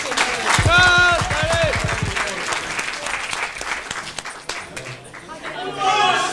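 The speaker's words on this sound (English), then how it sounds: "please give him a nice round of applause" Audience applause at a 1992 wedding reception in a function room, a burst of hand clapping that swells then tapers into chatter, with a voice speaking over it.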